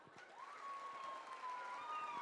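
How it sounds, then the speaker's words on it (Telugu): Audience applause at a school annual day dance performance: a steady, fairly faint wash of clapping from a crowd with a thin whistle over it. "ఒక్కసారి ఆ టైమింగ్ కోసం గట్టిగా చప్పట్లు కొట్టరా"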